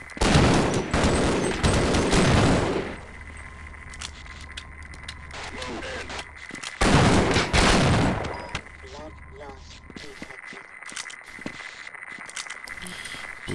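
Heavy bursts of gunfire aimed at the player in the shooter Half-Life, loud and dense in two long volleys with scattered shots, footsteps and mechanical clanks in the quieter gaps between.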